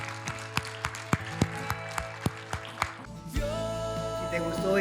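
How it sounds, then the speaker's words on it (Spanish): A church congregation claps in a steady rhythm, about nine crisp beats over ongoing worship music, before the clapping stops and the music carries on alone. "Dale un fuerte aplauso al Señor."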